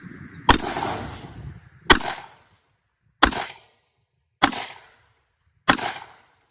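Five sharp 5.56 rifle shots from a BRN-180 crack into a steel plate at steady intervals about a second apart, each loud report fading quickly into near silence.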